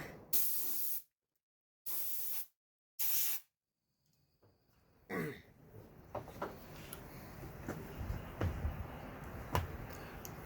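A compressed air nozzle blasts dust off a lathe in three loud, sharp hissing bursts separated by silence, followed by quieter clicks, taps and faint handling noises.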